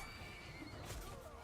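A horse in the video game Bannerlord gives a short, loud whinny amid noisy battle ambience, with faint hoof clatter beneath it.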